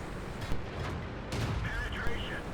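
Tank cannon shots in World of Tanks, a T21 light tank battle on Erlenberg, heavy booming reports at a moderate distance, a few spaced blasts over the steady hum of battle.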